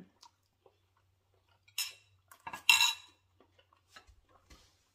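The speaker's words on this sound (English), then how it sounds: "Mix your sour cream in." A spoon scrapes and clinks against a dish in a few short bursts as sour cream is stirred into a shrimp dish, with quiet gaps between them. No voices are heard.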